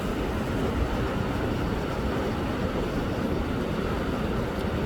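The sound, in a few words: sea waves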